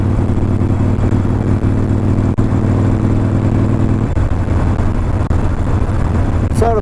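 A motorcycle running a Vance and Hines FP3 Fuelpack with a Stage 1 setup, its engine droning steadily and loud with wind noise while riding, the tone shifting slightly partway through.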